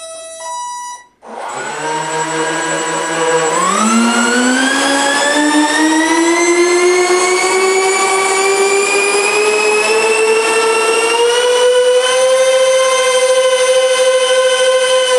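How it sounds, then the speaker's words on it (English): Four electric ducted fans on a radio-controlled Airbus A380 model spin up after a short click. They rise to a loud, steady, high-pitched whine that climbs further as the throttle increases, heard close with no talk. "we are going to start up these motors, these EDFs, and you will listen to the beautiful sound of 4 engines"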